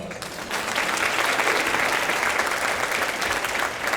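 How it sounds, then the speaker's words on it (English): An audience claps steadily for about four seconds to welcome a panelist onto the stage at a Memphis branding event, a dense, even wash of applause with no talking over it. "You can give a round of applause"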